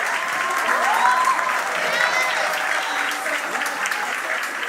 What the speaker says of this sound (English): Give her the biggest round of applause you've ever done in your life.